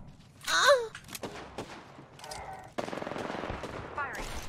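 Video game gunfire, a rapid automatic burst in the second half following a sharp vocal exclamation and a few scattered shots, close and fairly loud.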